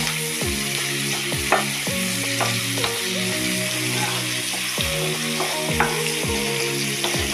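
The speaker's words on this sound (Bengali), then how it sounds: "সামান্য একটু মিষ্টি দিয়ে লঙ্কা নিয়ে নিতে হবে, দিয়ে ভালো করে নেড়ে নিতে হবে" Chilies with a little sugar stir-frying in a pan for chili chicken, a loud steady sizzle with rhythmic metal scrapes of the spatula at close range, no voices.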